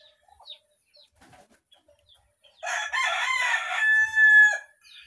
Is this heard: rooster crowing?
yes